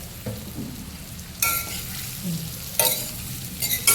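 Sesame seeds scattered over a hot tempering of oil for masala dhokla made with colocasia leaves give quick sizzling bursts, three short crackling surges over a steady low frying hiss, close and moderately loud.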